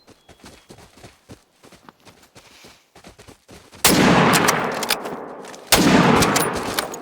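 Two loud rifle shots ring out in the hunting game theHunter: Call of the Wild, each a sharp blast with a long decaying echo, preceded by soft footsteps rustling through the terrain.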